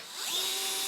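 DeWalt power screwdriver with a low torque setting driving screws into a standing desk tabletop during assembly, one short rising whir close by with no talk.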